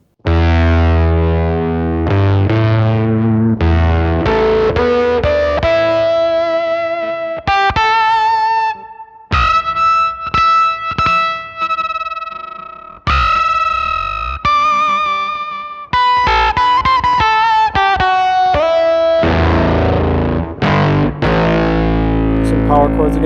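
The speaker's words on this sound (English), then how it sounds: "this is what the real thing sounds like, the real octave fuzz effect" An electric guitar played through a Roger Mayer Octavia octave fuzz pedal gives a loud, saturated, buzzing tone with a ringing upper octave, moving through single-note riffs and then power chords with short pauses between phrases.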